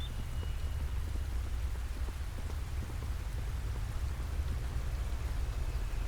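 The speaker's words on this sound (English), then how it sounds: "The rain sounds beautiful." Steady, dense rain patters across a surface in the Wolcen video game, a continuous hiss with low rumbling underneath and no speech.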